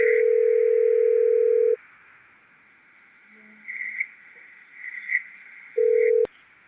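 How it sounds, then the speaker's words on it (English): A telephone ringback tone heard through a phone line for a live radio call, with a steady long ring burst, a quiet gap carrying faint background tones, then another ring cut off by a click. "It's ringing."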